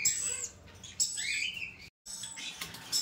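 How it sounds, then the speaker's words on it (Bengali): Pet birds, among them a male red lory, give a string of sharp, high chirps and whistled calls at close range, with a brief silent gap partway through. "এখানে এক পিস রেড কালার লরি রয়েছে, সম্পূর্ণ মেল একটা পাখি।"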